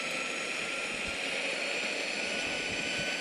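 A Tynee Explorer Pro belt-drive electric skateboard running at full throttle while climbing a hill: a steady, loud, even rush of wind and motor whine with no break and no talking.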